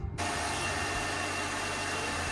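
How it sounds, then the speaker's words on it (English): A car engine idling with the hood open, ready for an engine bay cleaning with degreaser and a pressure washer; a steady, close, even hum that starts abruptly and holds with no talk. "Have the engine running just to make sure everything's working okay as we go along."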